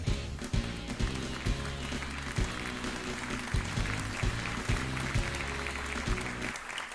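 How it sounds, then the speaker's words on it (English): A small studio audience claps briefly as a political commentary talk show begins, sparse applause over a rhythmic thumping music bed that cuts off abruptly near the end. "Boy, that applause ended quickly, didn't it?"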